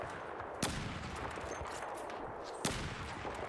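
Two sharp gunshots from Battlefield 4 crack out about two seconds apart over a constant noisy game backdrop, loud and distinct against the hiss.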